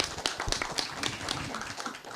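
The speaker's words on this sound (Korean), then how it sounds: "박수 부탁드리겠습니다." Applause from a small audience at a Korean PR academic society round-table seminar, a brief scattering of light, quick claps at moderate distance, fairly faint and thin.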